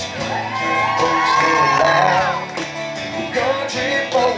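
Race fans at a finish line crowd cheer, whoop and shout loudly, a dense mass of voices with rising yells and whistles sustained throughout.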